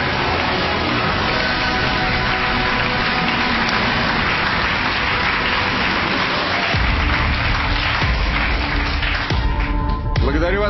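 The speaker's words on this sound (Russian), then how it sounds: "Аплодисменты, друзья." Studio audience applause on a Ukrainian political TV talk show, a sustained wash of clapping that fills the whole stretch, with a voice starting over it near the end.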